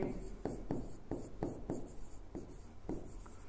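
Chalk or marker writing an equation on a board in a physics class, a run of close rhythmic strokes and taps, several per second, steady and quiet.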